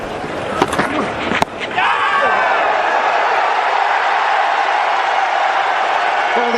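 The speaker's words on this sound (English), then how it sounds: "Oh, the crowd, they're baying for something." A cricket stadium crowd at a Pakistan versus South Africa Test match rises into a loud, sustained roar after a few sharp knocks, then holds steady as a broad wash of noise, with commentary voices mixed underneath.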